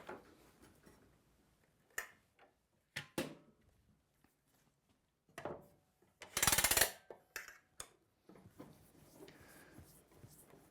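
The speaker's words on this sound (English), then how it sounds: "Now I'm just going to lay some clamps on the top side, and we're just going to do the same thing, just alternate clamps." Woodworking clamps set down and tightened along the top side of a Swedish corner cabinet glue-up, giving scattered sharp clacks and knocks with brief metallic rattles, close and fairly loud between quiet gaps.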